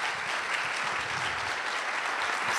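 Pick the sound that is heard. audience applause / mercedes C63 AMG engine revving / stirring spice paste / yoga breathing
audience applause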